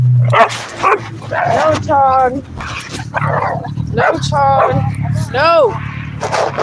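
A dog barks and yips repeatedly nearby, some high-pitched whining barks, while a person speaks firmly over it.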